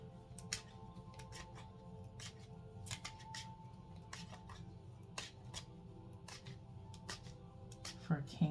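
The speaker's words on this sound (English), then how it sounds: "I'm going to keep shuffling before I go through those to see if any other messages come out." A tarot deck is shuffled by hand, making a quiet run of crisp, irregular card clicks and soft flutters over a faint steady hum, with no talking.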